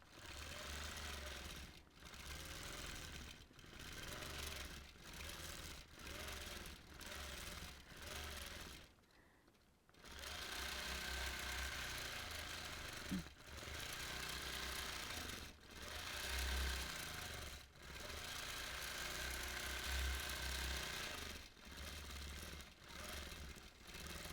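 A long-arm quilting machine stitches a Lone Star quilt with a continuous rapid mechanical whirr in repeated runs, broken by brief pauses, steady and moderately close.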